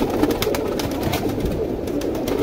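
A flock of Sharangpuri pigeons coos steadily close by in a dense, continuous murmur with no pauses.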